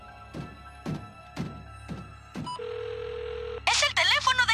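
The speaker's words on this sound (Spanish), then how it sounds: "Es el teléfono de Cody. Deje su mensaje." Cartoon telephone in Transformers Rescue Bots: five evenly spaced ringing pulses, then a steady electronic line tone, followed by a voice speaking.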